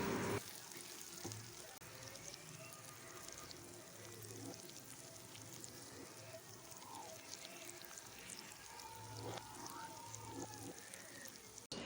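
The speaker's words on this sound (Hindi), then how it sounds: "अब इसमें भिंडी ऐड करेंगे और इसको थोड़ा सा फ्राई कर लेंगे" Okra frying in a spiced masala gives a steady, dense sizzle and crackle close by, continuous through the whole stretch, with faint scraping as it's stirred.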